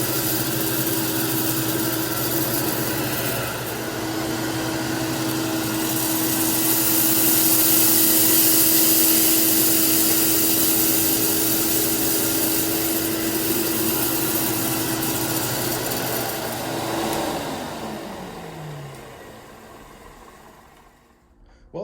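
A 1991 Dirt Devil Deluxe upright vacuum cleaner, model 7200, runs on carpet with a steady, loud motor whine and hum, then is switched off and spins down to silence near the end.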